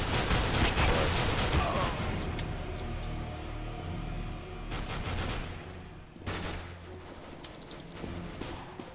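Gunfire in Counter-Strike: Global Offensive, with bursts of shots early on, then sharp isolated cracks later, with game ambience between them.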